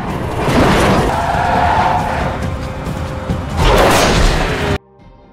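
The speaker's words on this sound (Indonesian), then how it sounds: "Namun tiba-tiba ada sebuah mobil yang melaju kencang ke arah mereka." A speeding car races toward people in a Prison Break film scene, loud engine roar with skidding and crashing impacts, a sustained rough rush of noise that swells again near the end before cutting off abruptly.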